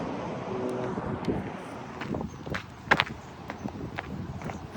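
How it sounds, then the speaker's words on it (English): Strong wind buffets a phone microphone outdoors in San Francisco, producing a constant low roaring rumble with gusty surges and a few footstep-like knocks close by. "The wind is absolutely brutal."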